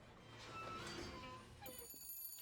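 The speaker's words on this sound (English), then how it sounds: "Oop, phone call." A telephone rings in the video game BioShock Infinite, its ringing tone coming in near the end over a soft, murky game backdrop.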